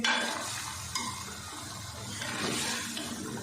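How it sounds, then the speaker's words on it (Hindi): Chicken curry masala frying in a pot as potatoes are tipped in and stirred, giving a steady sizzle with scraping stir strokes and a few clatters, close and continuous, with no talking. "अब डाल देते हैं आलू"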